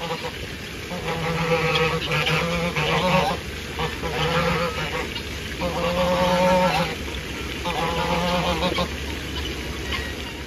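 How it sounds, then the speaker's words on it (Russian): Waterfowl at a resort zoo, among swans, flamingos and ducks, give loud honking calls in repeated bursts, with several birds calling over steady background noise. "Лебеди, фламинго, уточки и красивые какие-то еще птички."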